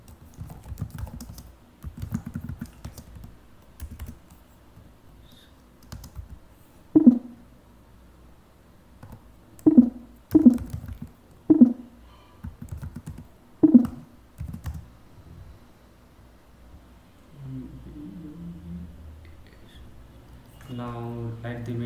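A computer keyboard clicks in scattered clusters while Java code is typed, close up, with someone talking between the keystrokes and some sharper isolated key presses.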